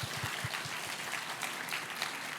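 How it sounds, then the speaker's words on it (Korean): A faint, distant round of clapping from a seated audience at a Korean financial-sector hiring conference, steady and soft throughout with no voices standing out. "오늘 고생해주신 다섯 분께 큰 박수 부탁드리겠습니다."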